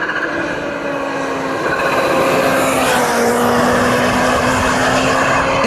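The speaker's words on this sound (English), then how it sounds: "you get that supercharger chirp, which does help to give it a bit of its own distinctive character" Supercharged naked motorcycle engine making 208 horsepower at 13,500 RPM, revving high: a loud, sustained mechanical roar with a steady supercharger whine running through it, continuous and close with no talk.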